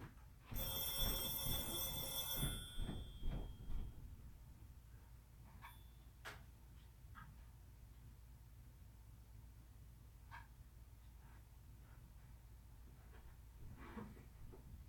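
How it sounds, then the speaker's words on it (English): A home telephone rings with a bright, loud electronic bell burst for a couple of seconds near the start, then the room falls quiet apart from faint scattered knocks and movement. "usually silence the phone before my live sessions, but I forgot to do that tonight, so it rings"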